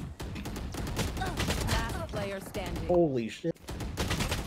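Gunfire in the shooter game Valorant crackles in quick bursts beneath excited talking, with a player's voice dominating over the shots.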